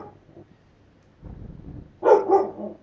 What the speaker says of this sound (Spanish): es que el perro está inquieto